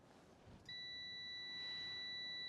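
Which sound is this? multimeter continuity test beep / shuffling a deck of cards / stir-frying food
multimeter continuity test beep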